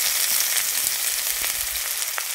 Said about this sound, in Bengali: আমি এবারে পেঁয়াজটা দিয়ে দিচ্ছি